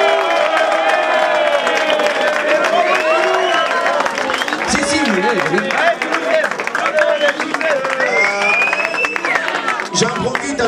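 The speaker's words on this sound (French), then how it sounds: "Donc un petit applaudissement pour les filles de Toulouse." Applause and cheering from a crowd at a 24-hour relay event in Lyon fill the whole stretch loudly and without a break, honouring the Toulouse girls' team while a few voices call out over the clapping.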